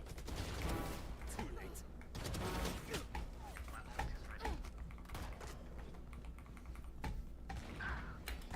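Rapid bursts of automatic gunfire crackle from a video game, steady and repeated, with keyboard clatter and occasional talking underneath.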